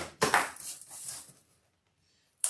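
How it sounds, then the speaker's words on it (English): Kitchen knife slicing into cardboard packaging around a laser projector, with a short burst of scraping and tearing, a fainter drag, a pause of near silence, then a sudden new scrape at the end. "we'll get cutting in it with the old family knife"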